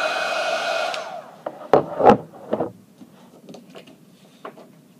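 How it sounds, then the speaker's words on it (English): A heat gun melts embossing powder for resist embossing, giving a loud, steady blowing rush for about a second and a half before cutting off, followed by a few scattered knocks and taps. "I'm just about finished with the heat embossing"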